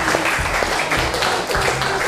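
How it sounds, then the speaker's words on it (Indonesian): A classroom full of people claps steadily, a dense patter of applause lasting about two seconds without a break. "Oke, kasih tepuk tangan."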